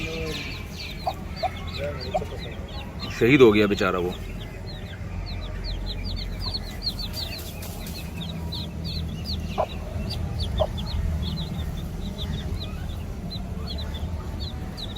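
Hens cluck and chatter steadily nearby in a small backyard flock, with a clear burst around a few seconds in, while someone speaks briefly over the birds.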